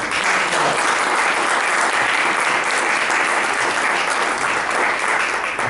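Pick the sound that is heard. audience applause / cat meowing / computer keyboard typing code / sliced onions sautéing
audience applause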